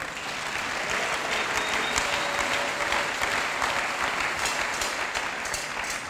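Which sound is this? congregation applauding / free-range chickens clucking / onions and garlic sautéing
congregation applauding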